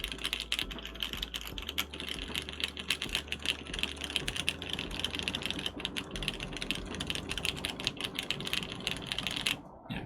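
Typing on a mechanical keyboard fitted with lavender switches: dense, rapid clacky keystrokes with occasional heavier thocks, close and continuous for ten seconds, with no talking.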